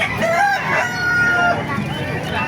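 A rooster crows loudly nearby over a busy din of clucking bantam chickens and other fowl, including geese, with faint background chatter at the Baliuag animal market.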